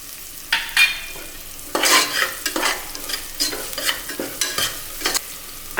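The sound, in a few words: green chillies and onions sautéing in a pan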